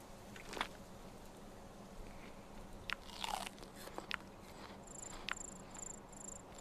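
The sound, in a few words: eating sounds in the video game Survival: Fountain of Youth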